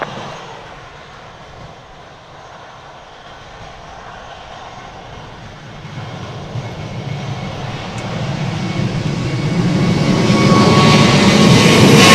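Jet airliner engines at Princess Juliana Airport (SXM) on Sint Maarten, a broad roar that grows steadily louder and nearer as an aircraft readies for departure, with no talk over it.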